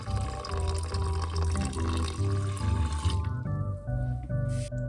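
Room-temperature water pours from a tap or jug into a bowl of sourdough starter, a close, steady gurgling stream with shifting tones as the bowl fills, then slows to trickles and drips near the end.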